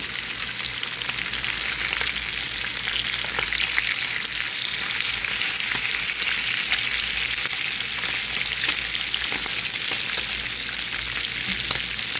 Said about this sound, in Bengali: এখন দিয়ে দিব মাছ মাছগুলো আমি দুই পাশ বাদামি করে ভেজে নেব